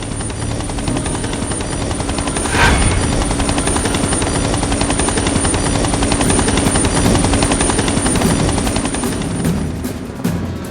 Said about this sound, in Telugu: helicopter sound